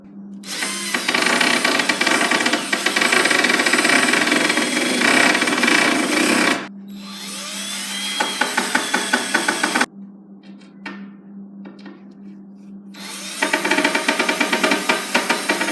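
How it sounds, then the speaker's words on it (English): Power drill driving screws to fasten shelves onto a homemade workbench, long bursts of whirring motor and biting screw noise with short pauses and a quieter clicking gap between runs. "we can go ahead and screw them down to the workbench"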